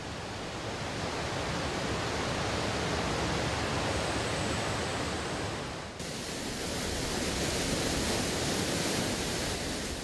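The first Yongso waterfall in Samcheok, a wild, untouched cascade below steep cliffs, produces a dense, unbroken roar of falling water, loud and close throughout with no voices heard.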